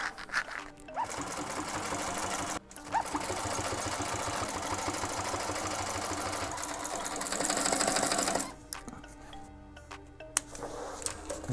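Sewing machine stitching old-school bucket seat upholstery, its motor running in a steady fast rhythmic whir for several seconds at a time, close and clear, with short pauses between runs.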